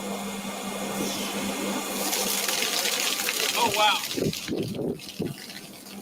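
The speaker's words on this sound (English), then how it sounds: "that's water from the air" Water gushing and trickling from an AWG 5000 atmospheric water generator, a steady pour with a pump-like hum beneath, with a brief excited voice reacting near the end.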